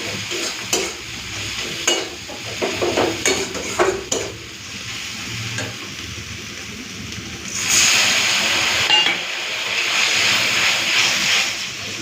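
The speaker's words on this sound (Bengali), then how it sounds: "এরপরে একটুখানি ভেজে নিই তারপরে জল দিয়ে দেবো" Egg posto masala with chilli and sugar frying in a pan, with a steady close sizzle, stirring scrapes and clinks for the first seconds, then a louder, brighter hiss of frying that holds to the end.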